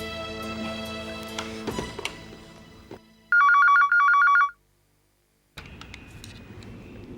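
An electronic telephone ringtone trills in a rapid pulsing burst at moderate loudness, followed by silence and then indoor room ambience.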